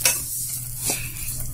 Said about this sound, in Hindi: हम इसको कंटिन्यू चलाते रहेंगे और धीमी आंच में भूनेंगे